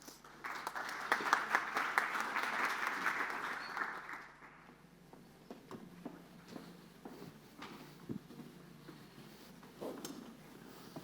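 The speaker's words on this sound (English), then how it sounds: "Please welcome them with an applause." An audience at an energy tech summit on green hydrogen applauds a panel: dense clapping for about four seconds, then it dies away into quiet room noise, scattered footsteps and small clinks.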